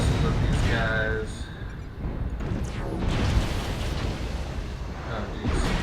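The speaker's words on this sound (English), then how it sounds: "Launch some missiles at these guys." Missiles from an Atlas AS7-K mech in MechWarrior Online launch and explode in deep booming bursts, the blasts rolling under a person talking throughout.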